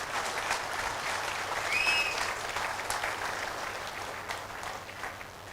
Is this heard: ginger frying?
no